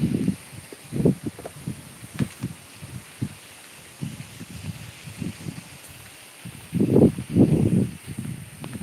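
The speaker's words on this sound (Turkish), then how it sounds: "Bayağı bir yel var. Yel esiyor." Strong wind gusting across a seaside viewing terrace in Alanya, buffeting the microphone in irregular low, rumbling bursts that swell loudest near the end.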